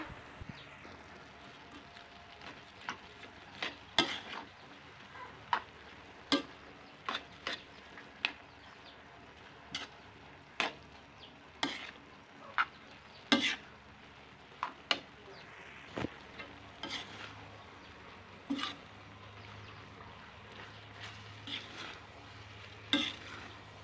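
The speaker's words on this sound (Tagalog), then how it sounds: "nilagay ko na nga po yung ating squid ball tsaka kikiam" Squid balls and kikiam being stir-fried in a pan, sharp irregular clacks of a spatula against the pan over a low sizzle, close and moderately loud, with no voices.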